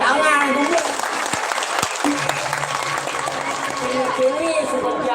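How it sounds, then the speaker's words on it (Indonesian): Audience applause at a Balinese Drama Gong performance by Badung regency's troupe, a steady wash of clapping throughout with crowd noise and some voices mixed in. "Tepuk tangan dulu"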